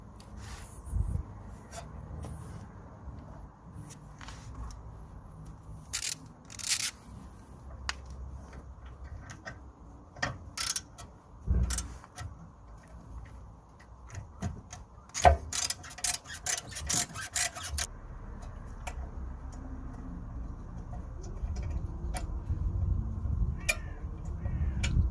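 A T45 bit on a ratchet works loose the guide pin bolts of an Audi A3 rear brake caliper, giving scattered clicks and quick ratcheting bursts over a low hum, with quiet stretches between them.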